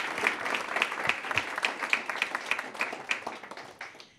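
An audience at a talk or presentation applauds, a steady wash of many hands clapping at moderate loudness that holds throughout before tapering off at the end.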